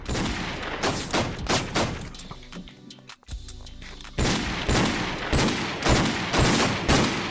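Rapid bursts of gunfire in the Minecraft MineZ survival server, loud and close with dense overlapping shots, a brief lull midway, then sustained firing resumes.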